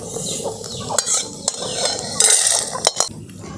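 Chana dal and peanuts being dry-fried and stirred in a pan for a dosa chutney, with a steady close sizzle broken by sharp scraping clicks of the spoon against the pan.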